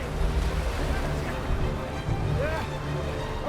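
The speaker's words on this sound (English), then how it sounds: "But a hurricane visited them and stirred up enormous waves." Enormous ocean waves stirred up by a hurricane, a continuous loud surge and wash of surf with wind, with faint tonal sounds drifting over it.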